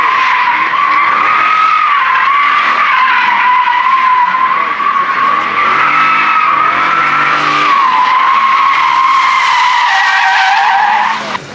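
A car modified for drifting slides with its tyres squealing continuously, a loud, sustained high-pitched screech that wavers in pitch over a steady engine roar, close and without pause.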